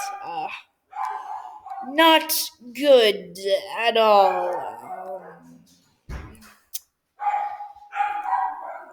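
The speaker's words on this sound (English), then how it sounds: "Sorry about the dogs." Dogs bark and yip in several bursts close by, mixed with a person talking over them.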